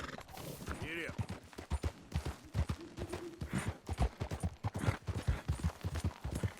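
Horse hooves gallop in Red Dead Redemption 2 in a steady, rhythmic drumming that runs throughout, under someone talking.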